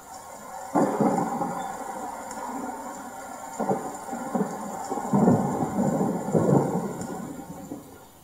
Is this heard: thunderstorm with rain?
yes